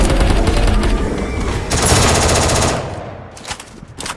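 Rapid automatic gunfire in the Free Fire battle royale video game, loud and dense bursts that fill the whole moment before tailing off.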